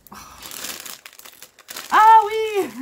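Plastic or paper wrapping of an advent calendar package crinkles softly through the first half, then a voice speaks loudly over the end.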